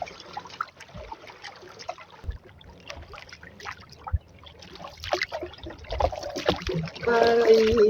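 Water trickles and splashes around a small fishing boat called a baruto, with scattered knocks and paddle-like sounds; a faint tonal whine comes in near the end.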